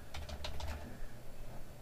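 Quick bursts of keyboard typing in the interactive drama game Facade, several soft clicking keystrokes close up and fairly quiet, with no talk.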